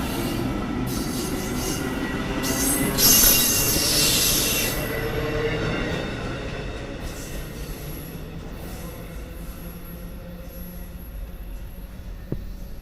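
A Union Pacific coal train rolls past with broad rumbling and a high metallic wheel squeal early on, steady and close, fading slightly toward the end.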